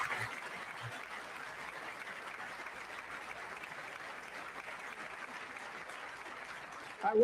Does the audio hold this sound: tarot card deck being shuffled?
no